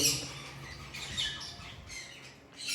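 Sun conure parrots, extreme red factor pairs at a pet shop in Islamabad, give shrill squawks and chirps, a few sharp calls over a faint background.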